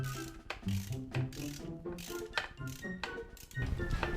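A hand ratchet clicks rapidly while loosening a flange nut on a Honda NSR250R MC21 motorcycle that has sat unused for two years, close rhythmic pawl ticking in bursts with short pauses.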